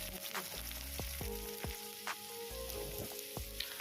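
Chopped onions are dropped into hot oil with bay leaf for masala potatoes and crackle steadily, with several quick stirring clicks and pops over a soft, close sizzle.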